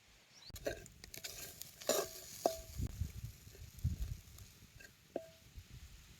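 Field beans (pavta) being scraped with a metal cup for a village bean curry, giving irregular rasping scrapes and a few sharp metallic clinks at close range, no voices.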